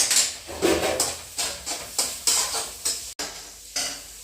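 Onion sizzles in a pan with crushed ginger and garlic stirred in. A steady loud hiss carries regular scraping stirs of a spoon, close up.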